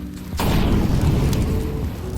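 A frag grenade goes off in Counter-Strike on the Mirage map: a sudden loud blast after a brief quiet moment, followed by a heavy rumbling boom that holds for a couple of seconds.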